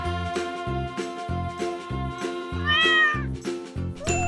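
A cartoon cat meows during a drawing animation, a loud bright meow rising over cheerful background music with a steady bouncing beat.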